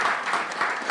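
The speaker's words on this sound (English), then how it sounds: "Round of applause for Alpic." A brief swell of audience applause at a startup pitch night for an AI company, a dense, close wash of clapping lasting under a second with no talk.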